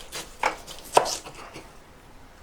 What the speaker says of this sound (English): So let's just cut this burnt bit off.